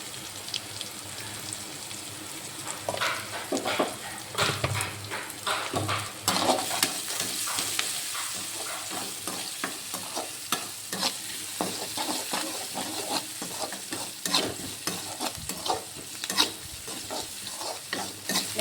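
Onions fry in a pan for a cluster bean stir-fry, a constant close sizzle broken by repeated scraping stirs of the spoon, with no talking.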